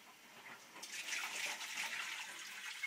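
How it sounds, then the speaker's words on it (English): Excess hot water is poured out of a canning pot, a steady hissing gush of water that starts partway through and runs on, fairly faint and without talk. "just pour the excess water out so I can fetch out the jar lids"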